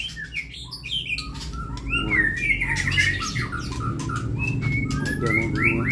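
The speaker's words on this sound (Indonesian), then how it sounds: "Ini review burungnya bosku" A murai (magpie robin) songbird calls steadily with bright whistles, chirps and squawky phrases, close and fairly loud over a low background hum.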